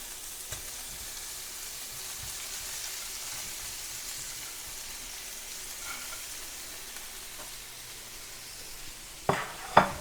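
Potato samosa filling sizzles softly in a pan with a faint, steady frying hiss, then a couple of sharp clanks and scrapes near the end as a spoon stirs it. No one speaks.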